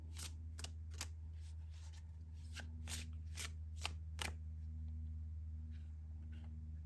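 Cards are drawn and slid from a tarot deck in a quiet room, a series of crisp papery swipes and flicks spaced irregularly over a low steady hum.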